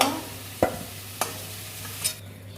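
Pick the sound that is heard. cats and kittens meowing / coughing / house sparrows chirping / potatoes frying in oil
potatoes frying in oil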